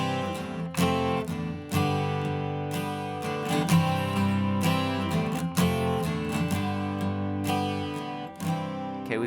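Acoustic guitar playing the verse of a song, with a steady strummed chord progression, clear repeated attacks and sustained ringing chords, close and alone without any voice.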